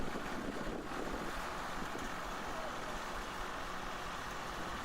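Boat engine running steadily with the throttle opened, a constant low drone mixed with wind buffeting the microphone and water noise, loud and continuous throughout.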